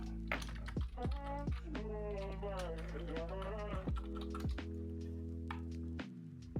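Someone types a login ID and password on a computer keyboard, producing scattered close key clicks while a person talks over much of it.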